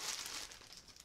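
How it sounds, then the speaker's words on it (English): A plastic bag of supplies, holding disposable heating pads, wet wipes and band-aids, crinkles as it is handled: a soft, close, continuous rustling with small crackles that tapers off slightly, quiet, with no talking. "Also in here, I have this plastic bag."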